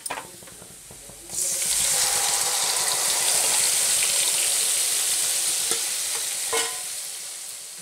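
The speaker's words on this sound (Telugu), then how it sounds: "వేసి బాగా కలుపుకోవాలి" Leftover gravy for Afghani chicken hits a hot pan and bursts into loud, steady sizzling, with a spoon scraping and stirring through it; close up, no talking.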